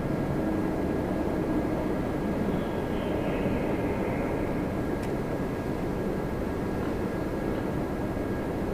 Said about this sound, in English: On the other runway, they're getting 777-300, the Employee Excellence livery, Air Canada 2 from Tokyo Haneda